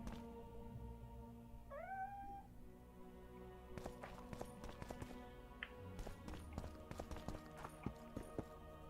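Cats in The Witcher II give a short rising meow in a quiet scene, followed by clip-clopping hooves, footsteps and scattered town noises.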